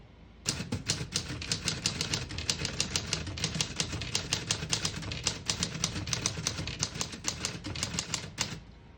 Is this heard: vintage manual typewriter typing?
yes